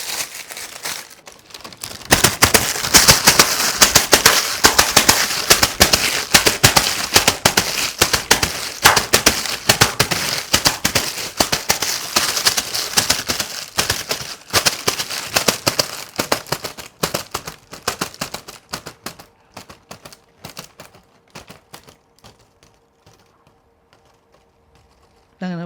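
A performer imitates a string of firecrackers by crumpling a plastic cover, a loud, rapid crackling burst that thins into sparse pops and fades, followed by a brief tone at the end.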